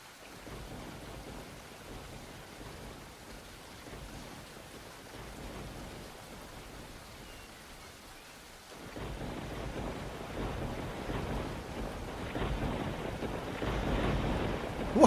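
Thunderstorm in the video game Into a Dream, with a soft, continuous rumble of rain and thunder that swells louder in the second half, no voices.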